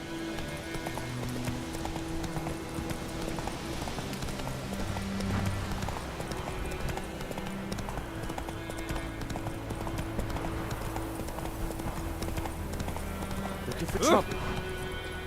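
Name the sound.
horse Roach galloping in The Witcher video game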